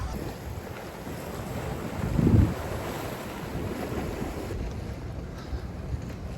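Water and waves wash steadily beside the cruise pier in Tortola, British Virgin Islands, with wind buffeting the microphone and a brief louder surge of water partway through.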